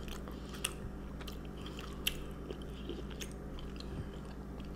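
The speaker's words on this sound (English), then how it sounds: "I might eat this whole cookie." Close, quiet bites and chewing on a gigantic chocolate chip cookie, soft crunches and a few sharper snaps scattered over a few seconds against a low steady hum.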